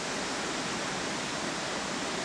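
A deafening waterfall in the Chartreuse mountains, swollen with heavy water, pours as a loud, continuous broadband roar, close by and unbroken.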